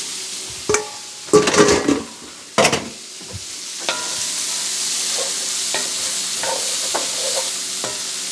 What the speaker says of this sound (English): And then those cut vegetables that I had earlier, I'm adding these to the pan right in there.